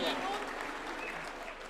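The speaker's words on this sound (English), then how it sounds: "A round of applause for Leader of Majority" A brief stretch of dense crowd applause at a political party's national governing council meeting, steady and fairly loud for under two seconds.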